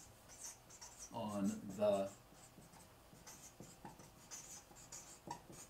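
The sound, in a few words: writing notes with a pen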